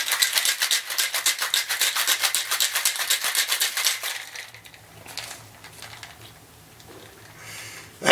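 A cocktail shaker filled with ice is shaken hard in a fast, even rattling rhythm for about four seconds, then stops, leaving quieter handling clinks and rustles.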